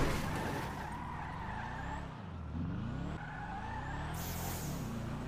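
Car tires squeal and skid through short burnouts in the video game GTA, wavering engine pitch rising and falling with screeching slides, fairly faint and alone.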